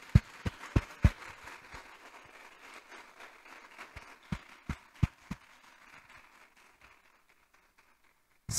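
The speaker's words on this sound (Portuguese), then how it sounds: "a gente dá uma salva de palmas pela decisão" Congregation in a church service clapping in applause, a burst of sharp irregular claps that thins out into scattered, fading handclaps over several seconds, moderately distant in a reverberant room.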